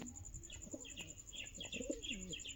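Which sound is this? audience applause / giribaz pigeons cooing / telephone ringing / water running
giribaz pigeons cooing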